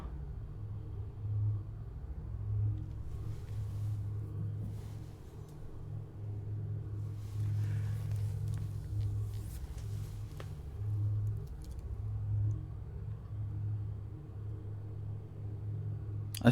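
A mechanical arm drifts slowly in Myst V: End of Ages, heard as a steady low mechanical rumble and hum with a slight wavering pulse, continuous and fairly quiet throughout.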